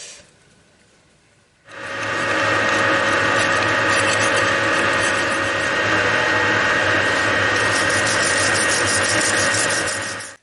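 A metal shaper machine cuts a gear: after a quiet second and a half, loud, steady mechanical grinding and whirring runs continuously to the end with no voices.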